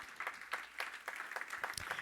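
A church congregation claps along in rhythm, a steady run of sharp, fairly close hand claps for a couple of seconds with no voices standing out.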